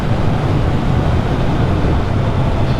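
Steady, loud wind roar buffets a rider on a naked Triumph Trident 660 street motorcycle, a continuous broadband rush with no break and no talk.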